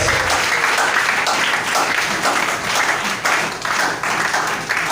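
Church congregation applauding their pastors at a jubilee anointing service, a dense sustained roar of many hands clapping with rhythmic pulses, loud and close, with faint voices underneath.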